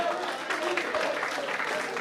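Audience applause fills a hall at a Bihar Diwas celebration held by students at a Patna institute, a steady, even wash of many hands clapping that holds for a couple of seconds.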